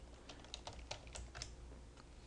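Quiet computer keyboard typing during accounting software entry, a handful of soft irregular key taps over a low background hum.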